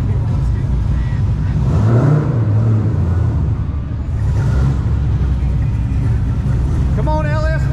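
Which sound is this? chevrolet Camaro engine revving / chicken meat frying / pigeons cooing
chevrolet Camaro engine revving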